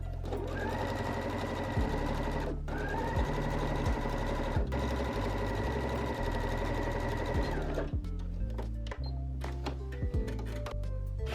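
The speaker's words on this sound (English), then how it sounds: "we are then just going to sew our shoulder seams and our side seams" Sewing machine stitching the shoulder and side seams of a blouse at a 5/8 inch seam allowance, a steady close mechanical whir with brief pauses and thunks between runs, no talk.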